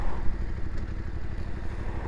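A Voge D900SX adventure motorcycle engine drones steadily while riding, a dense, close mechanical hum mixed with rushing wind noise and no voices.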